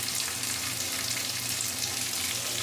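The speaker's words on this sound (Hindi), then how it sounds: "तो एक से दो मिनट के लिए हम टमाटर को अच्छे से भून लेंगे। साथ ही एक चम्मच हल्दी डाल देंगे" Chopped tomatoes frying with turmeric in a pan, giving a continuous dense sizzle that stays even and close for the whole moment, with no stirring accents and no talking.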